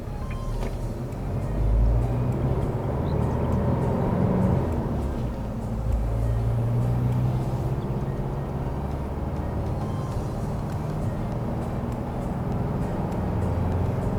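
An Isuzu D-MAX V-CROSS pickup fitted with upgraded BP-51 suspension cruises along a road, heard from inside as a continuous low rumble of engine and tyre noise with no talk.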